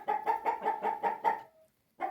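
Roosters in a chicken coop give a string of about seven rhythmic, nasal clucking calls, close and fairly loud, then a thin trailing note, a short pause, and another call starting.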